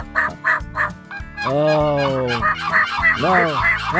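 Wild turkey gobbling loudly and close in a spring woodland, several rattling bursts in quick succession amid honking calls, with someone speaking briefly under it.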